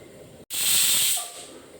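A pressure cooker cooking chickpeas vents steam in one loud, close hiss that bursts out after a brief silence, holds strongly for most of a second and then tapers off. There is no talking.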